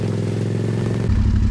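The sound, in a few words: Yamaha MT-07 motorcycle engine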